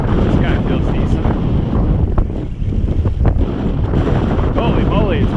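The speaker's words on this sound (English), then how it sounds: "Holy moly, it's windy." Strong, gusty wind buffets the microphone during a stormy day of fishing for striped bass on Cape Cod, a loud continuous roar with a voice briefly audible.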